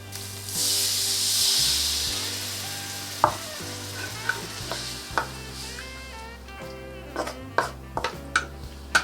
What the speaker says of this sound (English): So we're gonna let it simmer for just to thicken up a little bit